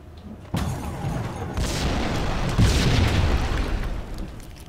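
A building blowing up in the PC game Max Payne: a sudden loud boom followed by a sustained rumbling roar of debris, with a second surge of blast noise partway through, no talk over it.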